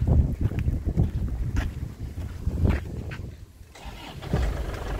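A black 2011 Grand Touring car's engine cranks and catches, with rough, rumbling noise partly buried under heavy gusts of wind against the microphone.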